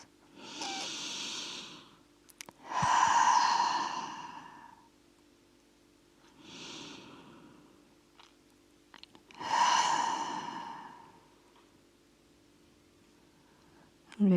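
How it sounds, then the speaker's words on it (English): Slow, deep breaths taken during a yin yoga session, each long airy exhale pushed out through the mouth, close and clear, repeating about four times with quiet gaps between. "Take 2 deep breaths here and exhale through your mouth."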